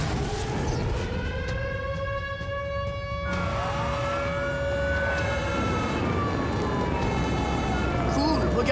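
Fire engine sirens wail in an animated Playmobil City Action scene, several overlapping rising and falling tones that sweep loudly over a busy background with voices underneath.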